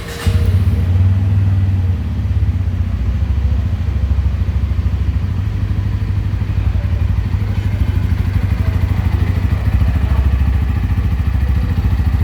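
A Bajaj Pulsar N160 motorcycle engine idles steadily up close, a loud, even low rumble with a faint mechanical clatter that holds unchanged for the whole stretch, no one talking.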